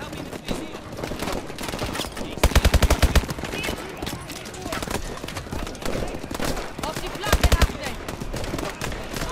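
Two short, loud bursts of automatic gunfire from the Call of Duty: Advanced Warfare campaign cut through steady game noise, while someone talks over the action throughout.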